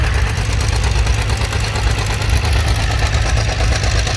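Farmall 400 gasoline tractor pulling an Oliver 4340 plow at a plow day, its engine running as a steady, loud low-pitched drone with a knocking throb and no breaks.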